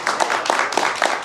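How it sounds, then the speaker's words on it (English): Audience applause for Jon and Syver at a Roblox show, a steady wash of clapping hands through the whole short moment, fairly loud and unbroken. "Everybody give them a round of applause"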